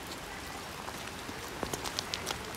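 Rain falls on a flooded river in Kathmandu, a steady hiss of drops on surfaces with a few sharper close taps standing out near the end.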